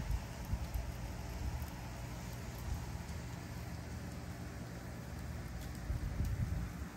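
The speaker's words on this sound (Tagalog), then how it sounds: "Parang asin-asin yung inuulan." Sleet falls steadily during a Texas ice storm in a residential neighborhood, a constant fine hiss of icy pellets with low rumbling underneath and no voices.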